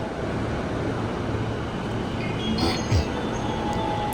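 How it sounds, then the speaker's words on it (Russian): A train rolls into a station in Tokyo with a steady low rumble and some faint metallic squeals, ambient hum throughout, no voices. "Поезд приехал, но не мой."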